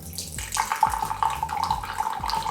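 Fanta orange soda pours into a glass in a steady, close splashing stream that starts abruptly and runs continuously to the end, with no talking over it.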